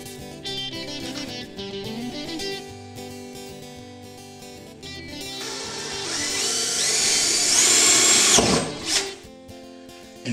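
A power drill whines as it bores a hole into a barrel, spinning up and grinding louder for several seconds before stopping, with music playing underneath.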